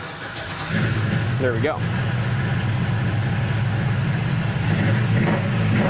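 A 2-wheel drive Chevrolet Blazer engine cranks briefly, catches and settles into a steady, loud idle close by, with someone speaking over it as it starts.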